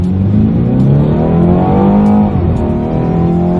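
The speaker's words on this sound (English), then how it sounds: "Let's do a quick little acceleration" A 2018 BMW 430i Gran Coupe engine revs hard and climbs steadily in pitch while accelerating, then briefly drops as it shifts gear and pulls again, loud and close.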